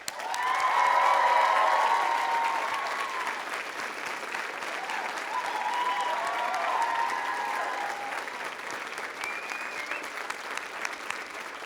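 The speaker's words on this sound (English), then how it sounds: "show your appreciation and respect for them with your cheers and your applause" A crowd at a university spring convocation breaks into loud, sustained applause with cheers and whoops, swelling early, then settling into steady clapping that slowly thins out.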